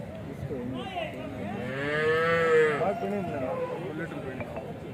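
At the Punganur cattle market a cow lets out one long, loud, drawn-out moo that swells and fades, with the murmur of a busy market around it.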